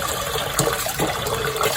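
Japanese rice being rinsed in a bowl of water, with a steady sloshing, gushing wash and a couple of louder splashes, close and alone.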